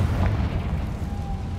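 A Confringo fire spell explodes in the game Hogwarts Legacy, giving a deep booming burst that rumbles low and fades over a second or so, with no talk over it.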